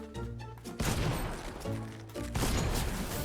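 Gunfire in the video game Fortnite while shooting at bots: two loud, dense bursts of rapid shots, each followed by a ringing tail, close and punchy with no talk.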